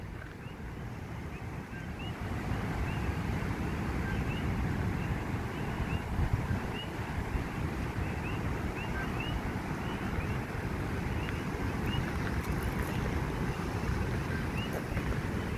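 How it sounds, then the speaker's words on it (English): Ocean waves at Richardson Beach at night in Hilo, Hawaii, make a steady, dense roar and rush that carries on without a break, with some wind noise on the microphone and faint high chirps above it. "But I guess it's actually just the ocean."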